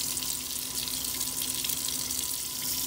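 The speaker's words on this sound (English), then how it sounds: "I'm just gonna get them all rinsed off really, really good." Pig feet being rinsed under a running kitchen tap, producing a continuous, fairly loud rush of water splashing into a sink with no talking.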